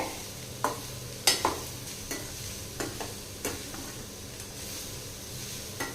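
Carrot and moong dal stir-fry being stirred in a pan, with soft scraping strokes and a few sharper utensil taps over a quiet, steady sizzle.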